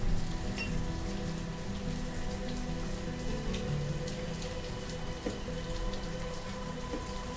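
Steady rain pours in a village-building video game, a dense continuous hiss that holds at an even level from start to finish with no voices.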